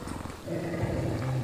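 A creature in the video game Graveyard Keeper lets out a low, rumbling growl, brief and close, swelling slightly as it holds, with no talk.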